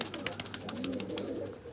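A male and a female pigeon give soft, low cooing close by, faint and brief against a quiet background.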